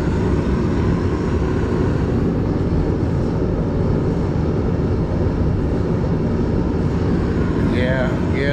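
A Mr. Heater 70,000 BTU kerosene forced-air heater runs with a steady, loud, close roar and broad blower rush that stays even throughout, with a brief higher sound near the end.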